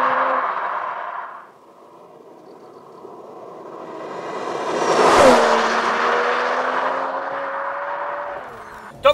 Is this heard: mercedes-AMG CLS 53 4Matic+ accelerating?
yes